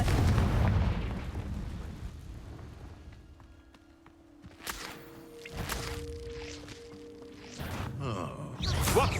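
A fiery explosion spell in Hogwarts Legacy erupts with a heavy boom, followed by scattered blasts, crackling bursts and debris amid a battle, with brief magical tones in between.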